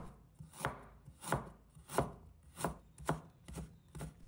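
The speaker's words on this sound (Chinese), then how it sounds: "一块生姜，把它切成丝。" A knife chops a piece of ginger into shreds on a cutting board, seven crisp, evenly spaced thuds in a steady rhythm, close and clear with no talking.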